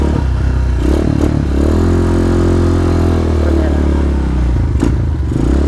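A Rusi KRY-200 motorcycle engine running loud and close, its throttle opened to a sustained higher rev before it eases back, with some clatter at the start and end.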